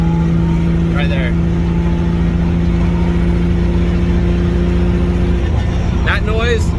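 A drift car engine with a worn turbo runs steadily and fairly loudly, with brief whistling, fluttering bursts rising over the drone near the start and again near the end.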